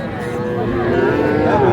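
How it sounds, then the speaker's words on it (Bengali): Heifer calves on a farm give a low, drawn-out moo that swells steadily over nearly two seconds, loud and close. "বকনা বাছুর আমরা দেখছিলাম"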